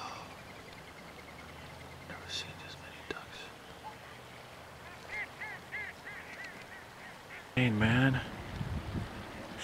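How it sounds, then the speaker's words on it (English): Ducks and geese on water honk and quack in scattered bursts over a faint whispery background, ending in a loud, close cluster of honking calls. "We've got all kinds of ducks here."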